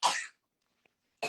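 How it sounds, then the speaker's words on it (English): Two short, sharp coughs from a person, close and fairly loud, separated by about a second of near silence, with no talking. "That you coughing?"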